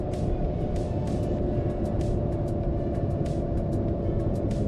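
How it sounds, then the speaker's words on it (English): Steady low droning hum from an older Datsun in a car driving simulator, sounding like a worn wheel bearing, constant and loud under continuous road and engine noise, with faint repeated ticks above. "it sounds like a wheel bearing humming"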